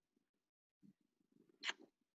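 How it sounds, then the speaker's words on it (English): A house cat purrs softly up close in a quiet room, a low rumbling flutter in short bursts, with a brief sharper snuffle near the end. "Of course, I don't want to take out my cat."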